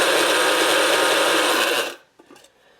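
Seasoning and salt rattle inside a lidded container shaken hard, a loud, steady, dense rasp lasting about two seconds before stopping abruptly, followed by a few faint knocks.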